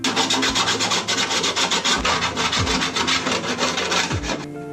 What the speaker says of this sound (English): Then now you can clean this up with a file.